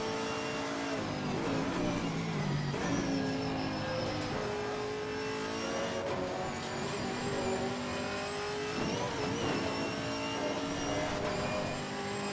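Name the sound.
race car engine in video game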